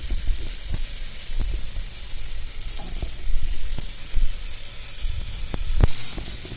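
Sprouted grains tipped into hot masala in a pan, setting off a steady sizzle and frying crackle with soft stirring scrapes and a few sharp clicks, close and fairly loud, no voices.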